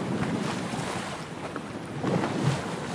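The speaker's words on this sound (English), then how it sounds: "Captain Pete steers the ship through the big waves." A ship at sea pushes through big waves, with a steady wash of wind and rushing water and a few louder splashing swells near the end, no voices over it.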